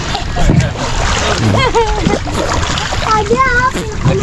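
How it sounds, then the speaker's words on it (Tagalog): Water splashes from someone swimming near the shore at Burias, splashy sloshing close by, with children and adults talking and shouting over it throughout. "Langoy si Bibi, ay, oh"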